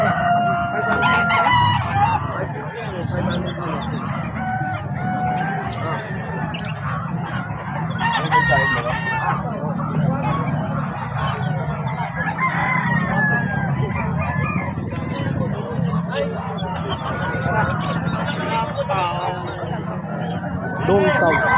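Native chickens at an outdoor pet market, with roosters crowing repeatedly and hens clucking among the crowd, while people talk nearby and traffic hums in the background.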